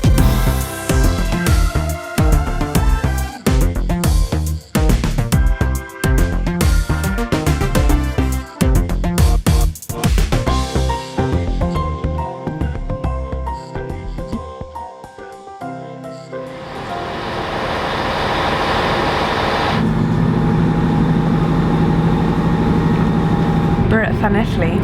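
Busy, cluttered sound with voices gives way to a steady, even rumble and hiss inside a moving train between Swansea and Llanelli.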